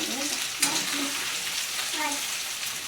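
Food roasts in a pan while being stirred, giving a soft continuous sizzle with a brief scrape or clatter near the start, moderately close and fairly quiet, with no talk.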